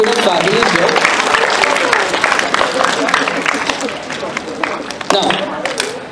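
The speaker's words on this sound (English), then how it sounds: "Please, one more round of applause for them." An audience applauds children after their performance at a music workshop, a burst of scattered clapping mixed with crowd chatter that gradually thins out.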